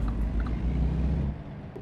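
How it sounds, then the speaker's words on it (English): A truck engine in a Volvo truck driving simulator game hums as a loud, steady low rumble throughout, easing slightly toward the end, with no talk over it. "The engine loud enough?"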